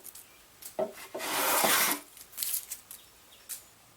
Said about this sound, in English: sanding is important, especially right here